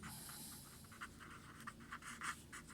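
Chalk or marker strokes on a classroom board during a mathematics lecture, a quick run of short scratchy bursts close by, with no voice over them.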